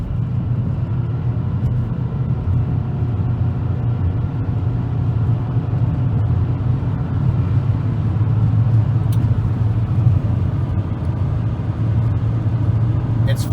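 A car with a CVT transmission drives and accelerates, giving a steady, loud low engine and road rumble that holds an even drone throughout, with no distinct gear shifts.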